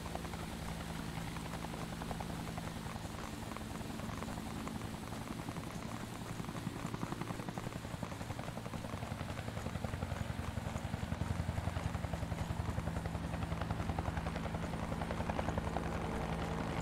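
Helicopter in the video game Fear the Wolves, a steady rotor drone with a rain-like wash that grows slightly louder as it nears, heard alone without talk.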